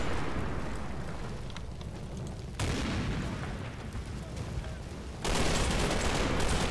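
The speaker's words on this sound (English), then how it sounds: "Yep, lots of hand grenades." Hand grenade explosions and gunfire in a World War II hedgerow battle video game, a dense continuous roar of blasts and shots with sharp shifts in intensity, loud and sustained.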